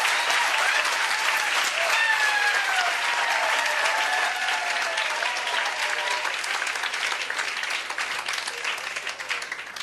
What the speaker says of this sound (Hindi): तालियों से स्वागत किया जाए एक बार।